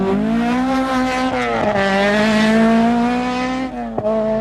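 A rally car on the 1992 Donegal International Rally races round a chicane, its engine note loud and close, climbing and dropping with gear changes and lifts in quick succession.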